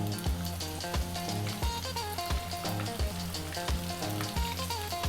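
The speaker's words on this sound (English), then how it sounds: "We're just going to drop our fish in. And we're going to fry this around for about maybe 5 minutes or so." A fish fillet fries in hot oil, a steady dense sizzle and crackle with rhythmic bursts, close and fairly loud with no voices.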